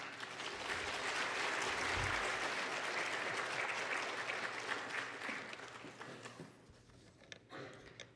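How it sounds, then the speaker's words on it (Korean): Church congregation at a Wednesday evening service applauding in welcome as a preacher comes forward, a steady wash of many hands clapping that swells, holds, then thins out toward the end. "나오실 때 우리 격려와 환영의 박수로 맞이하겠습니다."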